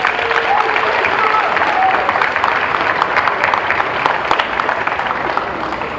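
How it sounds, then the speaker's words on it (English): A crowd applauds steadily at a senior high school awards ceremony, dense clapping holding at an even level throughout with no pauses. "Please give them a round of applause."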